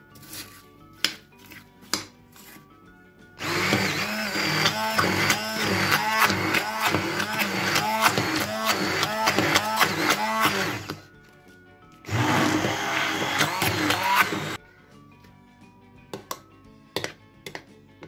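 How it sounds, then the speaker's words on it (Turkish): A kitchen blender whirs steadily for long stretches, churning homemade strawberry ice cream, pausing briefly before starting again; scattered clinks and handling noises fill the quieter moments before and after. "sonra blenderla tekrar 5 dakika hiç durmadan karıştırmaya devam edelim"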